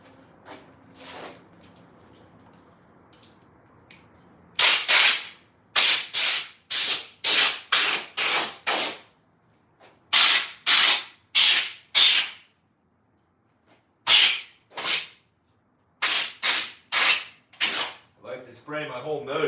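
Repeated short, sharp hissing sprays from an aerosol can onto a paramotor engine, bursts coming in quick clusters with pauses between, loud and close.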